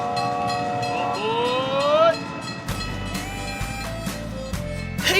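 A train ride sound effect: a steady rumbling rail car with a whistle sliding upward, followed by rhythmic clacking and a rolling chug, loud and continuous with no talking.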